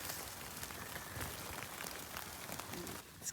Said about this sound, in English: It's kind of like hail.